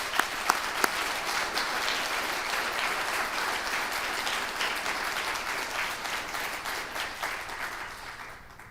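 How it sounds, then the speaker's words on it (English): Audience applause at a healthcare conference on cellular therapy, broad and steady clapping from a large room with a few louder nearby claps at the start, gradually tapering off. "ask that you recognize them now with a round of applause"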